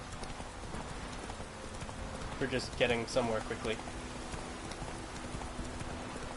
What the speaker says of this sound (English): If you don't, like, control the horse in any way, the horse will just follow the road.